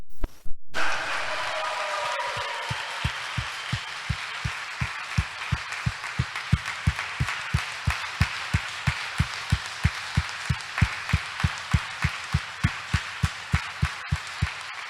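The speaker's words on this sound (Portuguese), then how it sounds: "Dê uma salva de palmas para Ele." A Catholic congregation claps in unison at a Trinity Sunday Mass, starting with a brief scattered burst and then settling into a steady, regular rhythm of sharp claps that continues to the end.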